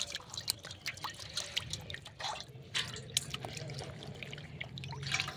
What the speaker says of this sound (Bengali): এবার একটা পাত্রের মধ্যে বেশ খানিকটা জল নিয়ে তার মধ্যে বেঁধে রাখা মুগ মুসুর ডালটা এভাবে করে করে ভালো করে ধুয়ে নেব